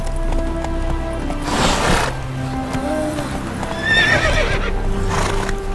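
A horse in The Witcher 3 gallops with a steady rolling clip-clop of hooves and gives loud whinnies over the top, close and prominent, with no speech.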